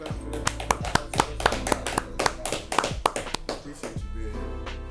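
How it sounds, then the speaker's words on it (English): A short burst of people clapping, sharp irregular claps from a small group nearby, fading out at the end. "Let's clap for that."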